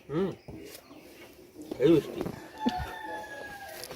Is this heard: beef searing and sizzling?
no